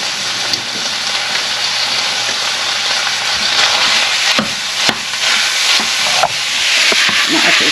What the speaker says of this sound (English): I'm going to add the ground beef now.